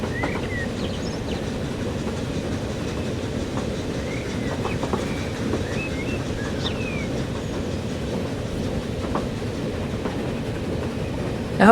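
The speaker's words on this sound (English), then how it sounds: "and just see some trains pottering along." Trains running along the line in Transport Fever 2 with UK mods, a steady rumbling roll with faint clickety-clack and occasional distant bird calls, continuous and fairly loud throughout.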